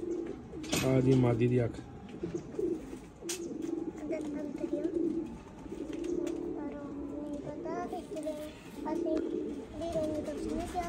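Saleti Kamanghar pigeons, a mated pair in Punjab, coo in repeated soft throaty phrases close to the microphone, while someone talks over them throughout and a brief flutter and clatter sound near the start.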